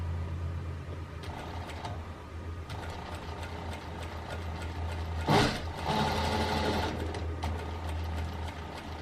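A sewing machine stitches along next to a seam line, a fast steady whirring hum with brief pauses and a short clunk midway, fairly quiet and close, with no talking.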